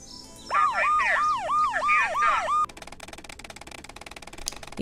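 A police car siren from the Nancy Drew: Alibi in Ashes game wails loudly in a rapid, repeating yelp for about two seconds, then cuts into a harsher, choppier electronic warble that continues to the end.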